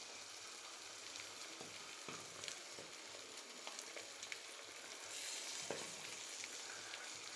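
A half-boiled egg sizzles in melted butter in a pan, a steady soft frying hiss with faint crackles and occasional light stirring clicks, heard alone.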